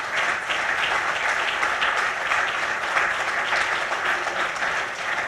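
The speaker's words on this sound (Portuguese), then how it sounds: "Eu peço aos presentes uma salva de palmas calorosa para os nossos oradores que fizeram brilhantes intervenções." Warm applause from an audience at an international congress fills the room, honoring the panel speakers with steady, dense clapping that holds evenly from start to finish.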